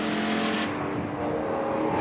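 TVR Tuscan race cars passing nose to tail at a 1990 circuit race, a loud continuous engine roar that shifts in tone as they go by, alone without talk.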